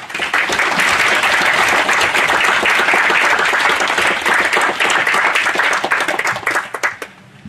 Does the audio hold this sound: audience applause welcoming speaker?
yes